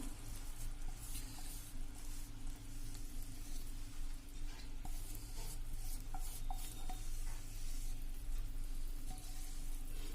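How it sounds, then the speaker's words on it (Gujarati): Besan batter cooks in ghee over a medium gas flame with a steady, bright sizzle. Scraping stir strokes rub against the pan throughout, over a low background hum. "અને એને આપણે આ રીતે મીડિયમ ફ્લેમ ઉપર મિક્સ કરીને હલાવશું ગેસ ઉપર જ"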